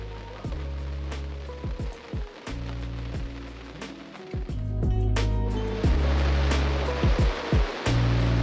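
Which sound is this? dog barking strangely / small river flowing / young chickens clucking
small river flowing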